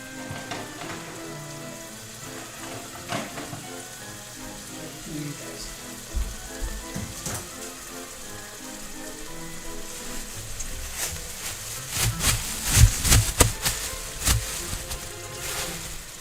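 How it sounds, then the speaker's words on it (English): Ground meat browns in a hot pan for pasta sauce, giving a steady crackling sizzle throughout with sharp spitting pops and louder bursts of clatter toward the end. "It's sizzling. Do you hear the sizzling?"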